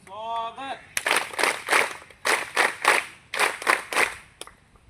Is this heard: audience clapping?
yes